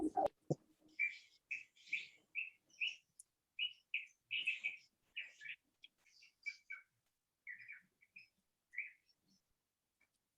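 Outdoors in New Zealand, a bird gives a long run of short, faint chirps and tweets in quick irregular bursts, heard alone with no talking.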